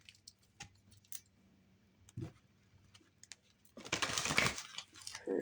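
A deck of oracle cards is shuffled close by: a soft, brief papery riffle rises near the end after faint scattered ticks and handling noises.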